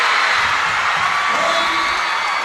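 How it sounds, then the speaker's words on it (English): Spectators at a high school volleyball match between Resurrection and Regina Dominican roar in sustained, dense cheering and whooping that fills the gym, loud and steady with no pause. "The crowd is going crazy"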